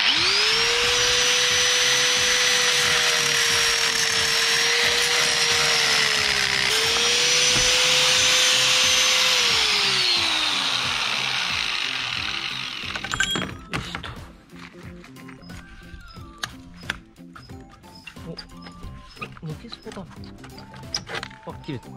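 A power tool cuts through a bent, broken intake manifold bolt on an amphibious vehicle under restoration, a loud steady whine whose pitch sags under load before stopping, followed by clanks and tool handling.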